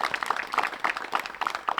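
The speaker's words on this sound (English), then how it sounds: "Let's give a big round of applause for Silva Saarinen." Audience applause for a disc golf player at a professional tournament, the 2024 Copenhagen Open: quick, fairly light clapping from a modest crowd, heard briefly and at moderate distance.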